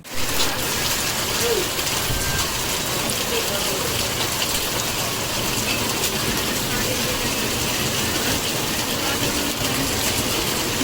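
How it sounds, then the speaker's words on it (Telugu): Continuous heavy rain, a dense even roar of falling water that holds steady throughout with no clear voices. "సచ్చివేడు నియోజకవర్గంలో భారీ వర్షాలు కురుస్తున్న పరిస్థితి"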